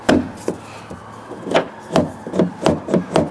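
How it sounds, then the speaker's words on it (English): A series of sharp wooden knocks, about seven of them, struck close by at an uneven pace and growing more regular toward the end, as a door latch part on a Land Rover Discovery is knocked into place. "And then I've got to knock it this way into place"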